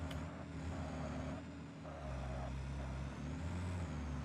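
Trucks driving in the Satisfactory factory-building video game give off a continuous low engine drone with shifting tonal hums, like heavy vehicles rolling past at moderate distance, steady throughout with no talking.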